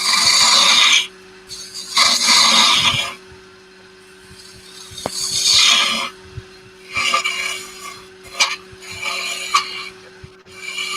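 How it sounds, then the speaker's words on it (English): A tool burnishes the inside of a thin turned wooden goblet ring as it spins on the lathe. The rubbing comes in intermittent rasping bursts over a steady low motor hum. "that must be burnishing the inside of the ring with it spinning"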